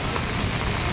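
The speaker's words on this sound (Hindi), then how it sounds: "बहुत तेज़ी से बारिश हो रही है।" Heavy downpour during a Delhi rain storm, a steady dense hiss of rainfall filling the whole second with no breaks, loud and even throughout.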